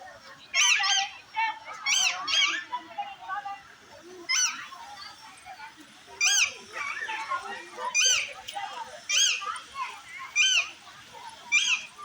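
Geese honk outdoors in a string of loud, nasal calls repeating every second or two, with short gaps and faint background noise between them.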